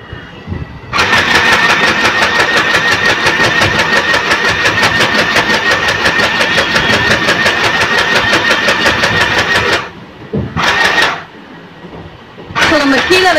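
A sewing machine runs under foot-pedal control, a loud, fast, steady mechanical chatter for about nine seconds, then stopping, briefly restarting, pausing, and restarting again.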